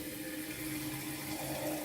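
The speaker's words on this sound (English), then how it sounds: "I fill up the container with cold water" Cold water runs steadily from a tap into a container, a continuous close splashing and rushing with no pauses and no voices.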